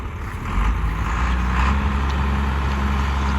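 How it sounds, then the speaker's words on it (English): A John Deere 4450 tractor pulling a John Deere 567 round baler through hay in the field, a steady loud engine drone with a low rumble throughout, no talking. "Baling with the 4450 John Deere and a 567 John Deere baler."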